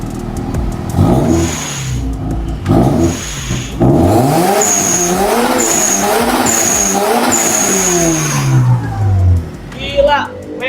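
Toyota GT86 fitted with an aftermarket exhaust, revving in silent mode: rising and falling engine pitch with short blips, close by, while people talk over it.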